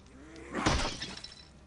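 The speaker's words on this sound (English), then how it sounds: "I've had it. I'm smashing furniture." Furniture smashed apart in the video game Krum: one loud crash that breaks into splintering, shattering debris, then settles into a few smaller clatters as it dies away.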